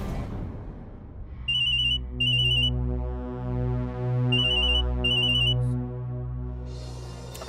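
A mobile phone ringtone plays a repeating electronic melody in bursts, loud and close, with no talking over it.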